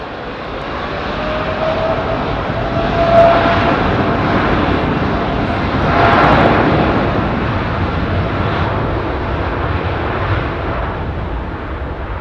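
Boeing 777-300 airliner taking off at London Heathrow, a steady broadband jet engine roar that swells and fades slightly over the run, fairly loud and continuous with no talk.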